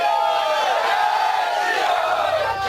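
A large mob chanting Jai Shri Ram slogans at a school, a loud, dense mass of voices shouting in unison, sustained and close throughout.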